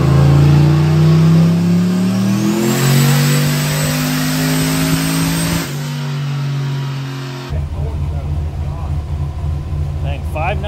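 A turbocharged 4.8L LS engine in a Crown Victoria makes a full dyno pull, a loud rising rev with a climbing turbo whine, then an abrupt drop in pitch and a rough throttled-off rumble.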